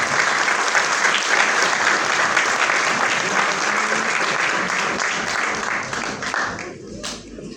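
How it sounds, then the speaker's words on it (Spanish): Sustained applause from a seminar audience greeting a speaker at a radiography imaging seminar, steady and dense for about six seconds before thinning out near the end. "Un fuerte aplauso para él."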